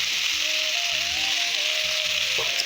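Large-cut tomatoes frying in a pan, a constant bright sizzle with soft stirring and scraping underneath, close and steady.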